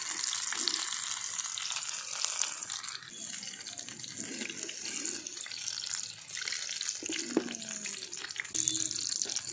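Paneer fries in a nonstick pan over a clay stove, a steady crackling sizzle carrying through the clip with occasional louder spits and faint voice-like tones in the background.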